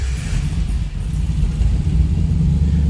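A fuel-injected 1939 Buick coupe street rod engine fires up and settles into a deep, steady rumbling idle, heard up close and fairly loud with no talking.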